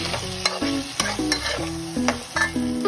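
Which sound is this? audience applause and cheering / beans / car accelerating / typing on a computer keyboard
beans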